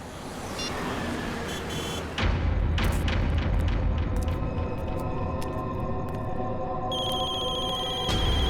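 A telephone rings repeatedly in a house, its electronic tones sounding over a low background rumble and occasional knocks.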